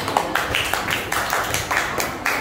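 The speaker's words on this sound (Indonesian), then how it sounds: "tepuk tangan dulu untuk saya" A classroom group claps hands during a regional-language lesson, a dense, steady patter of many claps with faint voices mixed in.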